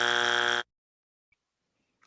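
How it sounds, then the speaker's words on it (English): A flat, harsh electronic buzzer sounds once for about half a second, loud and abrupt, then cuts off into near silence. "I need a longer buzzer."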